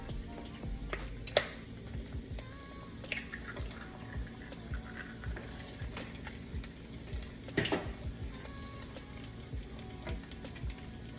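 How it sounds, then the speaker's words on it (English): Eggs fry in grease in a pan with a steady low sizzle, scattered drips and pops, and a few sharper clicks and knocks from the pan, heard alone without talk. "I'm gonna just throw the eggs in there and allow it to cook a little bit more with that grease"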